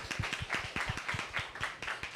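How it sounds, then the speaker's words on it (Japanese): A small group clapping politely at a Japanese sweet potato competition event in Singapore, quiet and fairly close, with a loose, steady rhythm of hand claps over a couple of seconds. "じゃあちょっと拍手でどうもありがとうございました"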